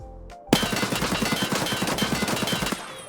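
Rapid automatic fire from an AK rifle in the shooter game Escape From Tarkov, a loud sustained burst of evenly spaced shots lasting a couple of seconds after a brief quiet start.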